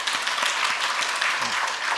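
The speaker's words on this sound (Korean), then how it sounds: "우리 위로와 격려의 박수 한번 해야 됩니다" A church congregation applauding during a Sunday sermon, a brief, steady patter of many hands clapping at close range, with a voice faintly underneath.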